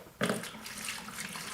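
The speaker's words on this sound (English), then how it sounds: "you always pour the water in first" Water poured into a container while mixing a filler for repairing a buckled laminate floor, a steady splashing rush that starts abruptly and continues close by in a dim room.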